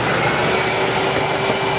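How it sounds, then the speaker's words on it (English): A DeWALT DWV012 10-gallon dust extractor vacuum runs with a loud, steady broadband whoosh and whine that fills the whole moment without change. "now we can turn on our vacuum"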